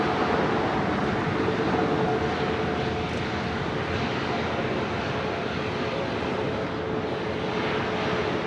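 Virgin Atlantic Airbus A350-1000 departing LAX, its engines a steady broad roar that holds at an even, loud level throughout with no clear rise or fade.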